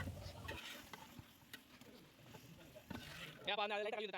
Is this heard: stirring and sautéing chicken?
yes